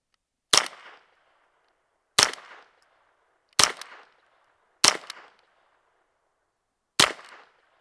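Five sharp rimfire shots from a Derya Arms TM22 Flash rifle firing standard-velocity target ammunition, evenly spaced about a second and a half apart, each a loud crack with a short decaying tail, unsuppressed and alone without talk.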